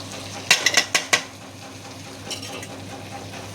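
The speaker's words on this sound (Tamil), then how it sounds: "இதை போட்டு நல்லா வணக்கி விட்டுக்கலாம்" Eggplant and tomato masala gravy being sautéed in a pan: a quick run of five sharp metal spoon clanks against the vessel, then a soft sizzle with one last faint clink.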